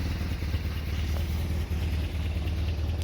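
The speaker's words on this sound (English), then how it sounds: "It's idling fine." A Toyota 22RE pickup truck engine idles steadily with a low, rumbling chug and slight rattle, continuous and close.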